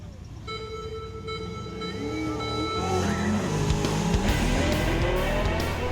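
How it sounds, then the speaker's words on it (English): A race car skidding during a race, its engine rising in pitch over rumbling tyre noise and squeals, growing louder and busier as it slides, with a voice briefly audible underneath. "the car is skidding all over the place"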